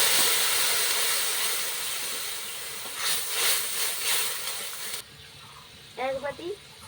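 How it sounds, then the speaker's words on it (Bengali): Mustard paste dropped into hot oil with fried five-spice (panch phoron) gives a broad, steady hiss and sizzle that fades a little, with a few louder pulses midway; a voice speaks briefly near the end. "পাঁচ ফোড়নটা ভাজা হয়ে গেছে এরপর এর মধ্যে আমি সর্ষে বাটাটা দিয়ে দিচ্ছি"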